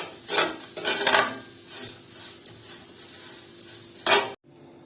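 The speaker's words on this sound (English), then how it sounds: "I keep stirring for 5 minutes to make the dough crispy." Stirring dough in ghee in a pan for Yemeni masoub: a few scraping, clattering strokes of a utensil against the pan, loud and close, with quieter gaps of low sizzling between them.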